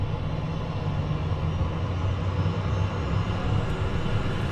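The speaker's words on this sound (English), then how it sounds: "All right, so we got a good start on engine number 2." Steady, loud, broadband turbine roar from a Phenom 300E business jet engine just after start, with a low rumble that holds even without pauses and no voices present.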